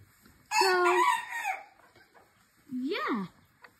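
A rooster crows loudly and close by on a farm, followed after a short pause by a second, rising crow or squawk from the chickens, with quiet background between the calls.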